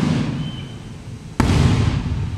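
Fireworks burst outdoors, with two sharp, loud cracks about a second apart rising over a rumbling, crackling background.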